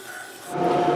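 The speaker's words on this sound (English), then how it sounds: "we're going to go over to the stationary disc sander and skim this down to the line" A stationary disc sander skims a mahogany guitar neck spline. Half a second of quiet gives way to a rising, rasping sanding hiss that continues to the end.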